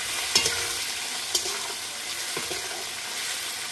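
Steamed eggs fried in oil until reddish brown, a steady close sizzle with occasional soft scrapes and taps of a spatula stirring in the pan, no talking.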